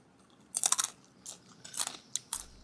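Crunchy chewing of fried Thai sun-dried pork, several close bursts of crisp bites and mastication in irregular clusters, with no talking.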